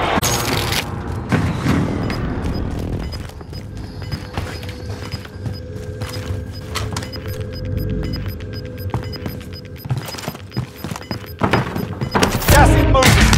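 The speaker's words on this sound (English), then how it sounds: "Be advised, friendly precision airstrike inbound." Precision airstrike explosions in Call of Duty: Modern Warfare: a run of heavy thuds and booms rolling through a dense battlefield mix, with a sharp final blast near the end.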